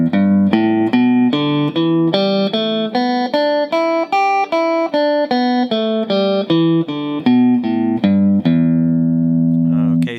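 An electric guitar picks single notes one after another through the first position of a blues scale in a shuffle style, at an even pace, rising and falling, and ends on a held note.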